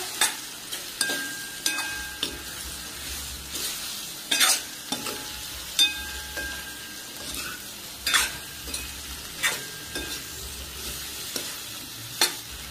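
Ghosala (ridge gourd) chutney with salt is stirred in a pan, a spoon scraping and knocking against the metal in repeated strokes over a soft, steady sizzle, with no voices.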